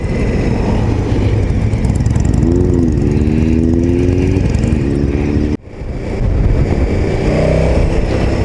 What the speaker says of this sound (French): Le moteur est assez discret.